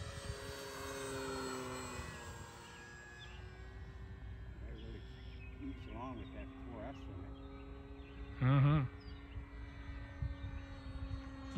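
An E-flite PT-17 electric RC model biplane flies with a steady motor whine that rises and falls in pitch as it passes, heard at a distance under outdoor wind noise.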